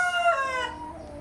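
A multi-coloured tiger breed hen lets out a single loud, drawn-out harmonic call close by, trailing off, with no talk over it.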